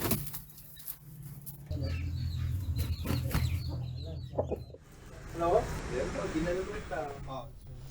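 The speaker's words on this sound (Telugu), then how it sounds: "ఇంతలో కోడి కూత వినపడింది" A rooster left tied in a bag under a seat of a Karimnagar RTC bus gives short clucks and calls, heard amid a news voiceover and bus interior noise.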